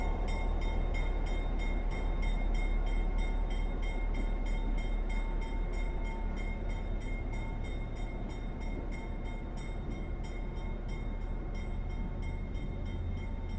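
A GP9 diesel locomotive rumbles past steadily, a constant low engine drone with a high whine and metallic rail noise holding throughout.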